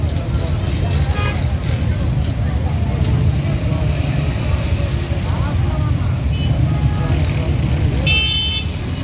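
Busy roadside traffic at a bazaar in Duki, a steady dense rumble of passing vehicles with occasional horn toots and distant crowd babble throughout.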